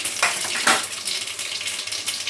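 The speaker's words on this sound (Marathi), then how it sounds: "तेल गरम झालंय. थोडीशी मोहरी घातली आणि चमचा भरून जिरं घातलं." Mustard seeds and cumin sizzle in hot oil with a dense, loud crackle and a few sharp pops near the start, continuing steadily throughout.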